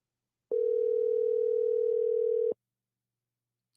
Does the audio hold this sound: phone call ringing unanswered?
yes